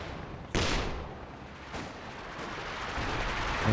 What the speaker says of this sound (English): running into the machine gun there